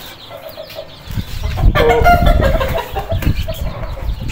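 A hen with her nine chicks clucking and peeping up close, steady fowl calls that grow louder and busier partway through, with a brief spoken word.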